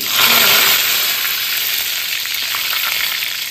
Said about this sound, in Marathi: बरं, नंतर कढीपत्ता घालूया.